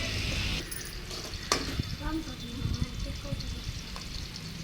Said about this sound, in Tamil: இப்போ வெங்காயம் போட்டுக்கிறேன் எண்ணெய் நல்லா சூடாயிடுச்சு கடுகு போட்டேன்